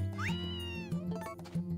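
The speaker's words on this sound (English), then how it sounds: "Yes, I hear you, cat." A house cat meows indoors, a short rising call close by over a steady low background hum, followed by two softer, briefer meows.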